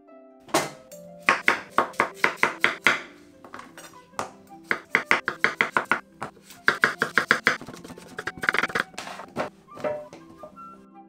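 A knife chops pumpkin into thin strips on a cutting board, making quick runs of crisp, close knocks against the board, several bursts of rapid strokes separated by short pauses.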